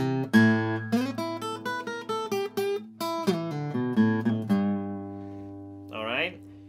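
Acoustic guitar plays a lick in A, with plucked and strummed notes ringing out and a final sustained chord, close and clean with no talking.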